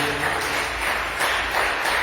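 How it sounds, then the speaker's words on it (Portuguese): Dense, continuous clapping from a church congregation fills the space, a broad wash of applause with swelling and fading surges. "Quem pode dar uma salva de palmas bem alegre para Jesus?"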